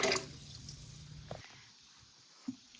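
Vegetable broth poured into a can of tomatoes, a brief splashing pour at the start, then faint trickling and a couple of soft drips.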